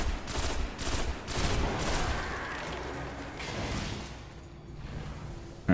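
Gunfire in Destiny: rapid repeated shots in the first couple of seconds, then continued scattered firing and whooshing effects fading to a quieter tail, no talking.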